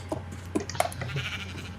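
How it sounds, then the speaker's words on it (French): A sheep in the Minecraft video game gives a few short bleats in quick succession, close and clear over a low game background hum, with no talking. "J'ai buté ce mouton."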